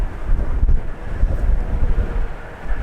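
Heavy wind buffets the microphone near a runway by a bombing range, a constant low roaring rumble with gusty swells throughout and no voices.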